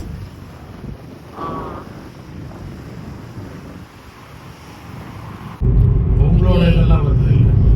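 Cold desert wind blows steadily outdoors, buffeting the microphone with a low rumble that surges much louder near the end, while a person talks faintly underneath.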